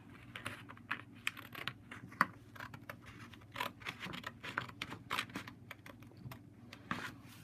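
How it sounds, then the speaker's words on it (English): Safety scissors snipping through paper pieces for a model bridge, a close, irregular run of crisp little cuts and rustles with no talking. "I'm using safety scissors"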